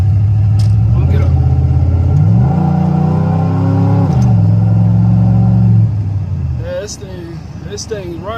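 A 1995 Chevy Silverado with a 5.7 engine idles, revs up twice in rising and falling sweeps, then settles back to a steady idle, with people talking over it near the end.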